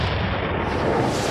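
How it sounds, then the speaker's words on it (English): Cannon fire sound effect played during a sports talk show about the Tampa Bay Buccaneers, a continuous loud booming roar with rumbling low end sustained for the full moment. "Let me fire the cannons for that."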